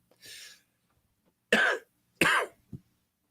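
A few separate coughs close by, three short harsh bursts after a softer breathy one, with silence between them.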